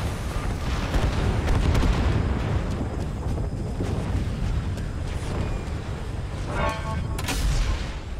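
A missile launch and explosion in the video game Evolve: a loud, sustained rumbling blast with heavy low boom, rolling on for several seconds, followed by a brief crackling burst near the end.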